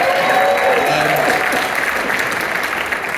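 Loud audience applause at a comic convention panel, a full dense clapping crowd that holds steady for a few seconds, with a faint voice briefly underneath.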